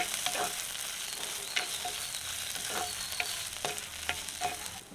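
Radish with curry leaves frying and wilting in a pan for a Jaffna-style curry, a continuous soft sizzle broken by occasional scraping stirs, fairly quiet.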